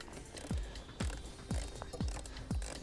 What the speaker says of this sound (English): We need a T25 Torx bit to undo this